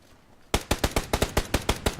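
Automatic gunfire in the PUBG video game, a rapid burst of about ten loud, evenly spaced shots starting abruptly after a brief quiet moment.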